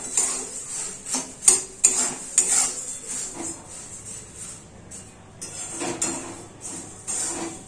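Puffed rice stirred and roasted in a wok, with a metal spoon scraping and clinking against the pan in irregular taps and rattles, close and fairly loud with no talking.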